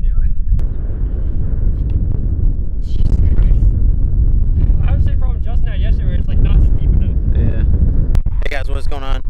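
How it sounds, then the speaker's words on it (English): Strong wind blasts across an outdoor skate park, a loud continuous roar buffeting the microphone throughout, with people talking and shouting over it. "It is windy as hell."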